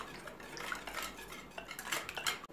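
Spoon stirring egg whites with sugar and salt in a bowl for poğaça dough, a steady clinking and scraping of utensil against dish that runs continuously, close and fairly quiet, with no talking.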